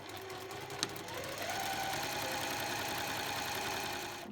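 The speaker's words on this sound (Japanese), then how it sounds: "そしたら反対側も同じようにして縫っていきます。" A professional sewing machine stitches the seam of a lined shoulder bag, running as a steady mechanical whir that holds for several seconds with no talking.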